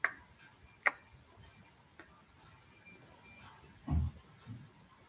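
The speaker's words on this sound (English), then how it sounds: "I can hear the click of my clock, it's ticking." A clock ticks softly in a quiet room, giving a few sharp isolated clicks spaced about a second apart, with a faint low thump near the end.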